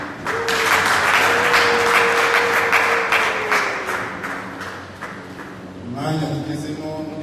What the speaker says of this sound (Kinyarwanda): tugakomera Imana amashyi